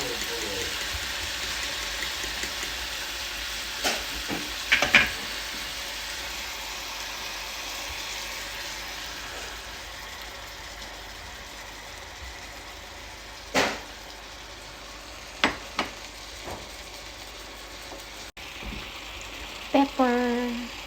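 Egg frying in a pan with bitter gourd, a steady soft sizzle running throughout with occasional sharp clicks and utensil knocks.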